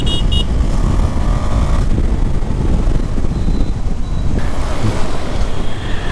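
A KTM 390 Adventure motorcycle ridden on the road, its engine drone largely buried under steady, heavy wind roar across the microphone, with no distinct gear changes standing out.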